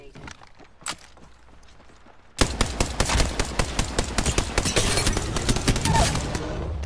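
Automatic gunfire rattles in Apex Legends, a sudden loud stream of rapid shots that starts partway through and keeps going, preceded by quieter footsteps and a lone shot, with brief talk.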